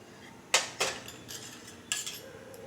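A metal kadai set down on a stove, a few sharp clanks and clatters of metal on metal spaced over a couple of seconds, close and otherwise quiet.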